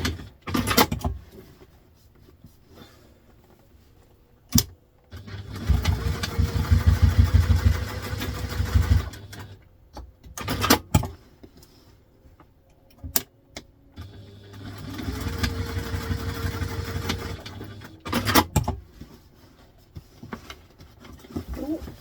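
Sewing machine stitching a vintage-style doctor's handbag, running in several sustained whirring bursts separated by pauses and clicks, close and fairly loud, with brief speech between runs.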